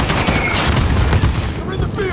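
Mortar blasts and rattling gunfire fill a Call of Duty Modern Warfare (2019) firefight at the embassy, with loud overlapping booms and rapid shots under shouted voices.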